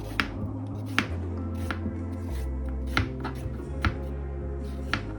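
Close, scraping strokes of a vegetable being peeled repeat every second or so, each with a short rasp, over a low steady hum; no one speaks.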